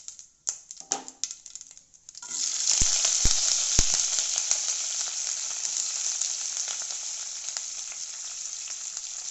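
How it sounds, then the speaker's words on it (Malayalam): Mustard seeds and fenugreek hit hot oil for a fish curry, erupting after a few sharp clicks and taps into a loud, continuous sizzle with scattered popping crackles that holds steady to the end. "കടുകിടുവാണ്. ഉലുവ ഇത്ര ഇടുന്നുണ്ട്."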